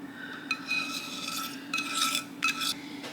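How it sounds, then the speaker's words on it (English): A silicone spatula scraping and spreading thickened sauce for baked ziti in a dish, heard as several soft, close rasping strokes over a low steady background hum. "if you have a silicone spatula that you can scrape all of that out of there with and spread it really well with it"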